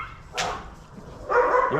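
A dog gives a single sharp bark, then after a short pause lets out a longer, louder burst of barking or yelping at moderate distance outdoors.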